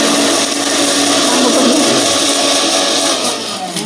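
A grinder runs loud and steady, grinding tea powder that is still hot, its constant whirring motor filling the space with no speech.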